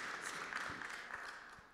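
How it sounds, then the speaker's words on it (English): An audience applauds at the Peace and Sport International Forum 2019, scattered clapping blending into a soft, distant wash that fades slightly toward the end. "please give him a big round of applause."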